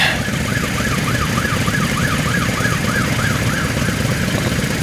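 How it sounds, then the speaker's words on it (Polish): An ambulance siren wails in a repeating rising-and-falling pattern over steady traffic rumble, fairly close and loud, at a truck show in Opole. "Karetka jedzie na miejsce."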